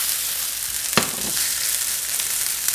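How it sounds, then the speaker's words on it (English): Potatoes sizzle steadily in a hot frying pan, a continuous crackling hiss with a brief clatter from the pan near the start. "And listen to that sizzle."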